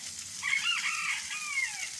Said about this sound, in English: He's a Polish rooster.